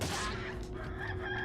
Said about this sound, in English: Apparently that chicken just pooped a key